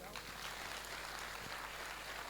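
Audience applause fills a Hindi devotional talk on faith in Shyam, a dense, steady wash of many hands clapping at even loudness from start to finish with no voice over it.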